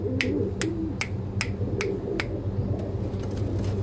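Andhra pigeons, a pair kept for sale, cooing close by in a steady rhythm with several sharp bright chirps recurring at regular intervals over a low continuous hum.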